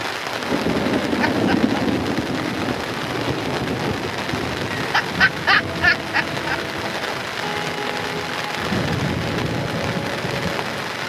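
A thunderstorm drums steady rain on the surfaces around a tent, with rumbles of thunder and a few brief louder bursts partway through, and no voices.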